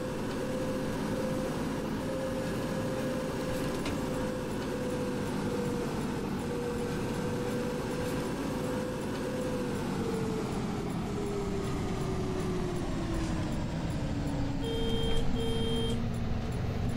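A trolleybus pulls away in a bus simulator game, its electric motor whining in a steady tone that slowly falls in pitch over a continuous road rumble, with a short chime near the end.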